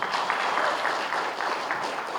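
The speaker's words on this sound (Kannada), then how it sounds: "ಸೊ ಏನೋ ಸ್ವಲ್ಪ ಇಲ್ಲಿ ಚಪ್ಪಾಳೆ ಕಮ್ಮಿ ಕೇಳಿಸುತ್ತೆ" Audience applause at a film press meet for the Bank of Bhagya Laxmi trailer, a thin but continuous patter of hand claps at moderate distance, lasting the whole moment.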